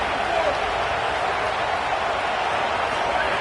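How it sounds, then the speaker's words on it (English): A football stadium crowd roars at a Texas Tech game on third down, a dense, steady wall of cheering noise with no pauses, distant and broad, with voices blended in. "The crowd electric, trying to help Tech on this 3rd down."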